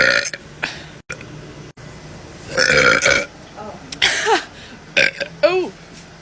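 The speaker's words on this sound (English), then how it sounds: "that energy drink really makes me burp" Several loud burps after drinking an energy drink, spaced across a few seconds with short vocal exclamations and breathy sounds between them.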